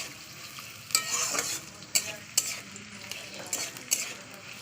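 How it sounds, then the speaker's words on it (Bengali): Chopped onion frying in hot oil in a pan, a steady close sizzle broken by several sharp spatula scrapes and stirs. "এবার দিয়েছি পেঁয়াজ তো একটা গোড়া পেঁয়াজ আমি কুচিয়ে দিয়েছি তো পেঁয়াজটা লাল করে ভেজে নেবো"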